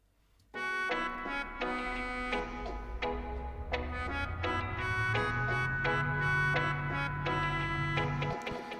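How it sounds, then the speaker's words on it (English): A rave-style riser effect sample plays alone: sustained bright tonal stabs repeat steadily while a low tone slowly climbs in pitch and then cuts off near the end. "So we've got this riser here"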